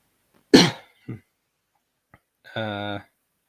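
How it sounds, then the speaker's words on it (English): A sharp, close cough followed by a softer second one, then a short voiced hum. "I should be coughing into my elbow"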